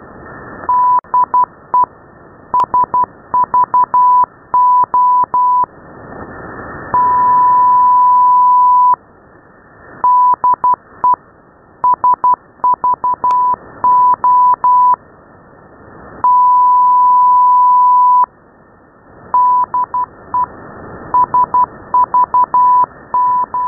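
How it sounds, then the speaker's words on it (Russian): A Greek radio station's Morse telegraph call received on a shortwave receiver: loud steady tone keyed in bursts of dots and dashes with long held tones between groups, over faint background hiss. "В данный момент только телеграфный вызов дает"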